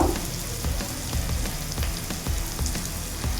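Spices frying in oil in a pan for a Bengali prawn curry, with a steady close sizzle and crackle that carries on evenly without talk.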